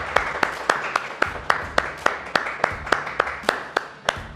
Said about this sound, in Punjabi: ਆਪਣੇ ਵਾਸਤੇ ਥੋੜੀ ਜਿਹੀ ਤਾੜੀਆਂ ਤੇ ਮਾਰ ਲਓ